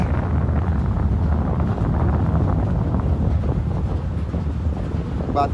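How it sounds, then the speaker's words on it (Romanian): Strong wind buffets loudly and steadily, roaring across the open water of the Saint Lawrence River with gusty rumbling close to the listener. "Bate vântul."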